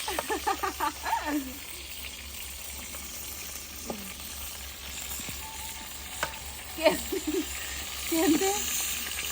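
Tinda (apple gourd) vegetables fry in oil in a kadai, making a soft, continuous sizzle. Brief snatches of a voice and light kitchen clinks break in now and then.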